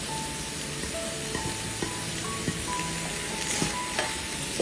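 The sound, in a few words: masala-coated ivy gourd pieces sizzling in a pan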